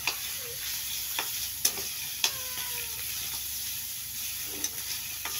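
Beef frying in a pan with vegetables, a soft steady sizzle broken by several sharp clicks of a utensil scraping and tapping, close and fairly quiet with no talk.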